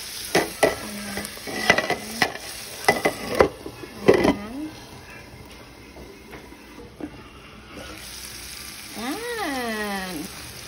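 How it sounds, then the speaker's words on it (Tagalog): Tomato, onion and garlic sauté in a pan for green bean adobo with a continuous sizzle, broken by sharp scraping and clattering stirring strokes at the start. Someone talks and calls out briefly near the end. "gisa lang tayo ng tomato. Sibuyas, garlic, tsaka bawang."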